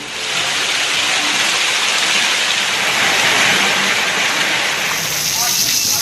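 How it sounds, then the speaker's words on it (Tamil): Heavy rain in Jaisalmer, Rajasthan, driven by strong wind, makes a dense, loud, unbroken hiss that stays even for several seconds with no voices. "ராஜஸ்தான் மாநிலத்தில் பலத்த காற்றுடன் கனமழை."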